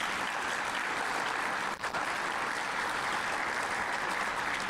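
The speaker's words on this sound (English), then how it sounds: "Maybe a round of applause for our sponsors." Audience at an awards-event broadcast gives a sustained round of applause, a dense even wash of many hands clapping that holds steady throughout with a brief dip partway.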